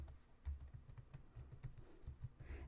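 Quick irregular keystrokes on a computer keyboard, close and fairly quiet, tapping in short bursts with no voices over them.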